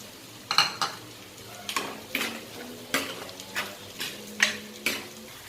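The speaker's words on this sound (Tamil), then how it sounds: "உருளைக்கிழங்கு ஃப்ரை ஆயிடுச்சு." Potatoes frying in a pan with curry leaves, mint and coriander, a low sizzle punctuated by regular spatula scrapes and clinks roughly every half second, close and moderately quiet, no voices.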